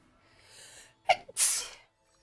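A single sneeze bursts out sharply after a soft, strained inhale, preceded by a faint murmur and followed by quiet.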